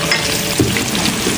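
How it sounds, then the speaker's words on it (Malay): Onions sizzle steadily as they are sautéed in hot oil, a continuous close crackling hiss with small pops and no talking. "So kita nak tumis bawang besar ni."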